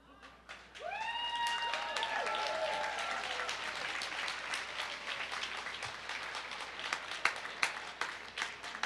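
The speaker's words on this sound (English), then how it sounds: "give a round of applause to all of your" Graduates at a North Seattle College commencement ceremony applaud their supporters, sustained dense clapping from a large crowd with scattered cheers and whoops rising over it, steady throughout.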